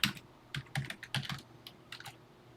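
Keys on a TI-99/4A computer keyboard are tapped in short uneven bursts of crisp clicks, close and quiet with pauses between groups.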